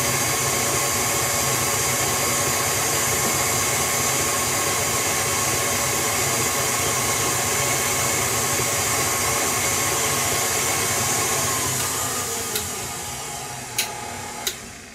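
An electric stand mixer with a paddle whirs steadily through spritz cookie dough, a loud continuous motor drone that eases off near the end, followed by a few sharp clicks.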